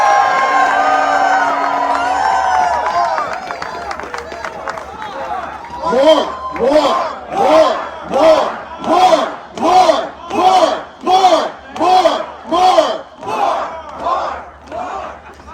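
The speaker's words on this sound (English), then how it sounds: "let's give them another round of applause for that" A political rally crowd protesting Elon Musk cheers loudly, then breaks into a rhythmic chant of repeated shouted bursts, each evenly spaced and close, carrying on to the end.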